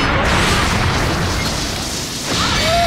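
Explosions in a Dragon Ball Legends video game battle rumble as a continuous loud, broadband roar that dips briefly before swelling again.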